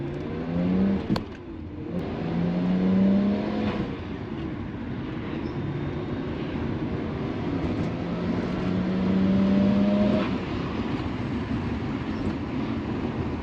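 A Nissan Skyline GTR accelerating hard after a clutch launch, its engine droning loud and steady close by as the pitch climbs through the gears.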